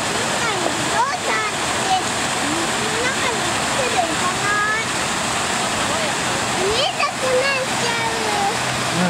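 A water shower in an African bush elephant enclosure gushes in a steady, loud rush of falling and splashing water, with faint voices in the background.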